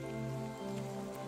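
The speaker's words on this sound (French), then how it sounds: "je savais pas qu'on allait courir sous la pluie" Rain falling steadily outdoors during a physical fitness running test, a dense, continuous hiss of drops hitting surfaces, close and even throughout with no voices.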